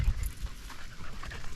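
A dog pants quietly and quickly in a cemetery, with steady rapid breaths close by and no talk.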